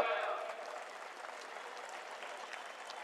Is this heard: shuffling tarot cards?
no